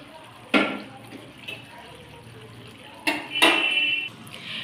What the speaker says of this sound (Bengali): এবার তরকারির জন্য জল দিয়ে দিচ্ছি